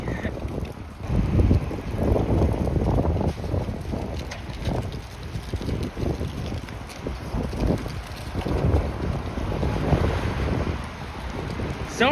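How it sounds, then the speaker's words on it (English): Gusty wind buffets a microphone outdoors on Yonge Street in North York, Toronto, producing loud, rumbling low-end bursts that swell and ease throughout, with no voice heard. "And yes, it is windy."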